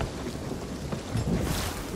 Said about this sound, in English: We just got hit by lightning.